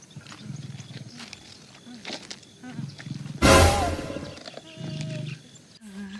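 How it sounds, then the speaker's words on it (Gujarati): Tiger roaring in a comedy skit, one loud deep roar bursting out midway over background voices and music, with shorter growls and murmuring before and after. "ભાગીને એક વાઘ આવી ગયો છે"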